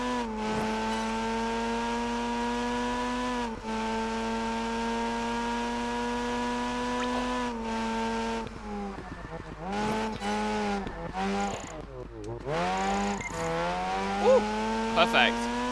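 A car engine screams at high revs and its tyres squeal through a long drift in Project Gotham Racing 4, with the pitch dipping and rising as the car shifts and slides through corners.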